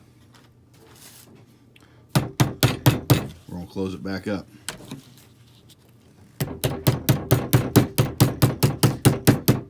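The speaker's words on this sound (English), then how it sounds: "And we're going to get a hammer." A hammer taps a small piece of metal on a Carhartt strap repair, two bursts of rapid, even, close tapping around brief talk.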